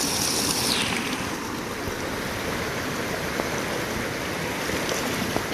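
Steady rushing roar of a waterfall pouring out in Yosemite's backcountry, a broad continuous wash of water close by with no pauses and no voices.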